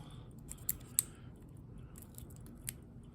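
Snips of scissors trimming excess material during a quick repair of a bricked American lock: two sharp cuts close together, then a third a moment later, over a low steady background hum.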